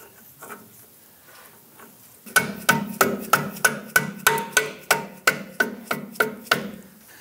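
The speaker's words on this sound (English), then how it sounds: "you're probably gonna wanna use a mallet or something like that to tap this up and in." A mallet taps a front lower control arm into place on a 1997-2006 Jeep Wrangler. After a quiet lead-in come about fourteen sharp, evenly spaced metallic knocks, close and loud, with no speech.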